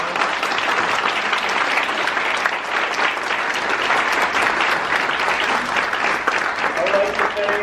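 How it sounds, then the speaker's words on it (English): A conference audience at a Filipino young professionals' annual event gives a steady, loud round of applause that stays dense throughout, with faint voices mixed into the clapping. "Can I have a round of applause for these people?"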